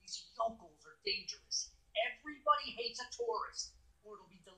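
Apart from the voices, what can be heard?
No everyday noise stands out behind the speech.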